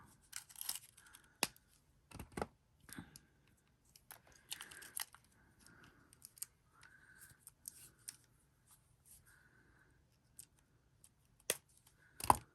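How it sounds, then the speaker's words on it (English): Cutters snip the messy end off a length of 20 gauge twisted artistic wire: a few sharp, isolated clicks spread across a quiet background, with small handling rustles between them. "cut that end off."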